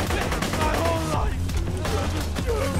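Sustained full-auto weapon fire in Borderlands 2, a loud rattling stream of rapid shots that briefly eases before continuing, with game effects mixed in.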